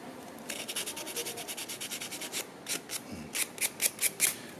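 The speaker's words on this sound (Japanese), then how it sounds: "ペーパーはこうやって適当な形にサイズに 折りたたんであって、手で持ってで この狙いのところにこう 狙いのところをこう擦って磨いてやると" Folded sandpaper is rubbed by hand over the tip of a wooden fork, giving a steady run of quick, soft scratchy strokes close up. The strokes turn slightly louder and more spaced toward the end, with no talking.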